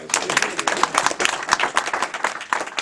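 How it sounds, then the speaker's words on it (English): A small audience applauds after a storytelling volunteer holds up a bead cut in half, a brief burst of close, uneven hand claps with voices underneath. "Give him a round of applause."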